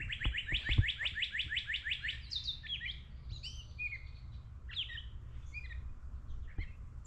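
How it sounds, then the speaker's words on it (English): A bird calls from a tree along a nature trail in a quick series of bright, repeated chirps, then scattered shorter tweets and whistles, fairly close and clear over a low outdoor rumble. "Oh, there's a bird right there."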